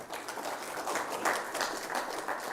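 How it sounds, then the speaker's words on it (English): Conference audience applause for a speaker at a cybersecurity event in Kenya, a soft, diffuse patter of many hands clapping in a hall, fairly faint and steady with slight swells. "Let's clap again for Emmanuel."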